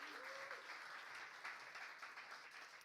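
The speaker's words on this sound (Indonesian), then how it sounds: "Tepuk tangan bagi Yesus yang luar biasa." Faint, distant applause from a church congregation during an online worship service: a soft, even wash of clapping for a few seconds with no one speaking.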